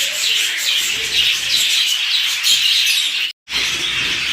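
Many fancy birds kept together in a collection chirp and tweet in a dense, continuous chorus, with a brief silent gap near the end; no talking.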